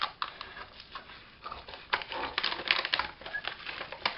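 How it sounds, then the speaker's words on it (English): Scissors cutting paper for an envelope, a series of close, crisp snips and rustles in an irregular rhythm, quiet at first and busier toward the end. "You can see my scissors are going down"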